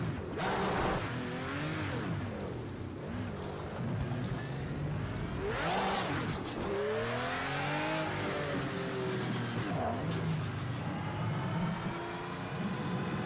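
Car engine in Project Cars 2 on PlayStation 4, revving loudly and continuously with repeated rising and falling pitch sweeps as the car accelerates and shifts around a track.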